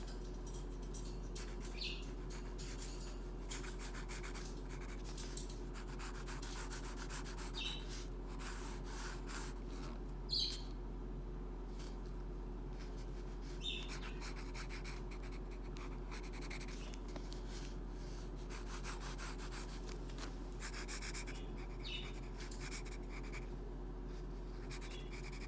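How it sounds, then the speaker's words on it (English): A pen or pencil scratches and rubs across paper while drawing a table, producing soft, irregular strokes close by over a steady low hum, with no voices. "I'm gonna draw that table out"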